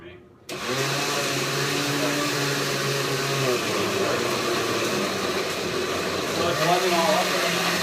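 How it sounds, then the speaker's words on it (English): A countertop blender purées frozen fruit into a smoothie, its motor a loud, continuous roar whose pitch dips and shifts as the load changes and the contents churn. "it's blending all up right now"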